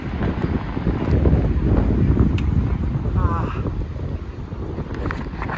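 Strong wind gusts across a mountain trail on the Everest Base Camp trek between Phakding and Namche Bazar, buffeting the microphone in a loud, continuous roar while a person speaks briefly.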